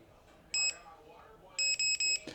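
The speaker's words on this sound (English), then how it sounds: "hold the trigger down till you hear the confirmation beeps" VEITORLD 20V cordless electric pruning shears give a single sharp electronic beep, then a quick run of three beeps confirming the lock, close and clear over a quiet room.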